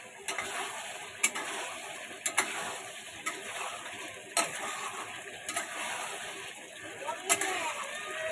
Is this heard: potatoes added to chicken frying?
yes